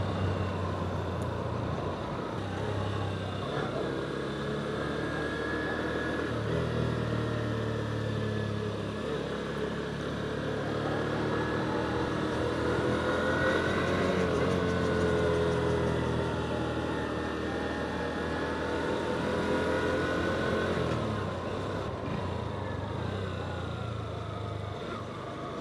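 A Honda CB200X motorcycle rides along a winding mountain road in Taiwan, its engine a steady low drone with shifting pitch beneath rushing wind noise, continuous and unbroken throughout.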